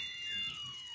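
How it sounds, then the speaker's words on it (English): A house alarm beeps in a high, steady electronic tone, fairly faint and continuous. "Get that alarm, baby. Get that alarm."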